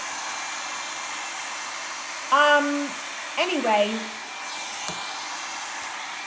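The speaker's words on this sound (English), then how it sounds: "it's just a blow dryer that also brushes your hair" A hair tool that blows air while brushing runs steadily throughout as a continuous whooshing drone, with a short spoken word and some brief louder bursts over it midway.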